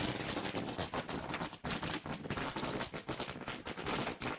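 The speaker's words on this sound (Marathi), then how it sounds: "फटाक्यांच्या आतिषबाजीने" Firecrackers burst in a dense, continuous crackle at an outdoor village cricket match prize ceremony, rapid overlapping pops sounding harsh and distorted, filling the whole stretch without pause.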